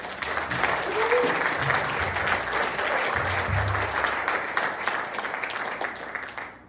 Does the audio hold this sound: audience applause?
yes